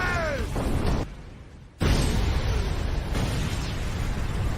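A heavy, roaring film explosion blast that cuts out briefly, then erupts again into a sustained rumbling boom, loud and close.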